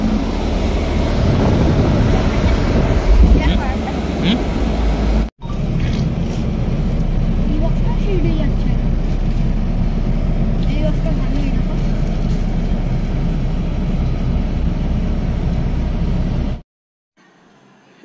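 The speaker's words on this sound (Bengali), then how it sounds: "এই দেখুন রাস্তায় কি জ্যাম।" A car inching through a heavy road traffic jam, heard from inside as a steady low rumble with wind buffeting, a brief dropout near the middle and a cut to near silence at the end; a voice speaks over it.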